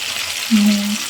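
Salted fish fries in hot oil with a steady, even hiss, close and fairly loud. A brief low tonal hum rises partway through.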